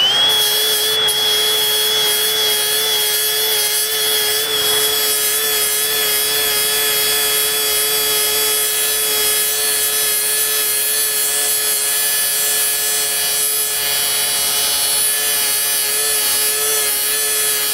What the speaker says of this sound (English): I was able to grind down with this segmented wheel to exactly the depth that I needed